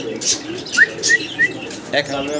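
Several short pigeon calls ring out in a quick, spaced series from a pair of Mundian pigeons close by, with faint background chatter and rustling; soft cooing blends in.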